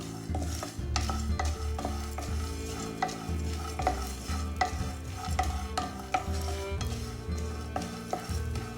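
Grated coconut goes into a hot pan of tomato kuruma with garlic and is stirred with a utensil, giving repeated scraping strokes against the pan over a soft, steady sizzle, with no voices.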